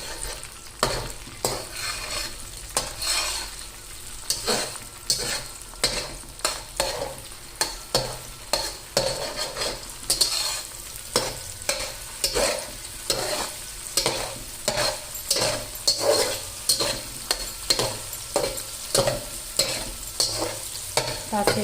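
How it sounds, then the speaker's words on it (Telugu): Egg frying in a pan for egg fried rice, a steady sizzle broken by regular sharp scraping strokes of a spatula stirring, close and continuous. "కాసేపు అలాగా ఫ్రై అవ్వనివ్వాలి."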